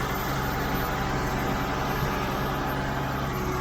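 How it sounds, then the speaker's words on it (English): A Ford TW30 tractor engine runs steadily at about 1400 revs under slight load, a loud, close, continuous low rumble with no one talking. "Back her off a bit more. To 1400. Still not even lugging really."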